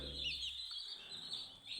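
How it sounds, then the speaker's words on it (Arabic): Two-day-old chicks in a home-raised brood, gathered around a waterer in the early morning, cheeping in a continuous high chorus of soft overlapping peeps close by. "الفراخ عمر يومين، ده اليوم التاني"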